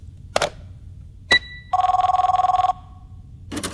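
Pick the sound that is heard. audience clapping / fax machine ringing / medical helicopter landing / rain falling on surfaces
fax machine ringing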